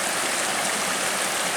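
A small backcountry waterfall stream rushes in a dense, constant wash of falling water, close and steady with no voices.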